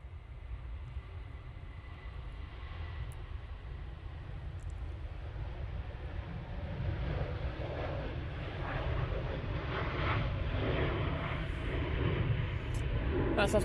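A Boeing 737-800 jet airliner flies at Manchester Airport, its engines giving a broad, steady roar that slowly grows louder and closer over the whole stretch.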